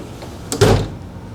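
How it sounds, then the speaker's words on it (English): A heavy drawer of a socket set tool box is dragged open along stiff slides, giving a brief scrape and then a loud, low rumbling thud up close. "the drawers are hard to pull out"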